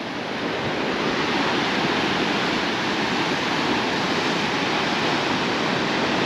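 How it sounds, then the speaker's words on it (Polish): Sea waves crash against rocks below a cliff on Bali, Indonesia, making a loud, steady roar of broad surf that continues without a break. "patrzcie, jak woda się rozbija o skały"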